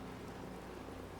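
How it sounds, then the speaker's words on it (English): Steady rain falls outside in Fallout 4, a soft, even hiss with a low rumble underneath that carries on unbroken. "it is raining outside"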